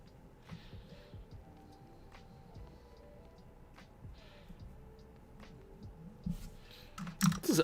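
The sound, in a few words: typing on a computer keyboard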